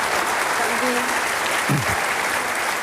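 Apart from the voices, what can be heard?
audience applauding at debate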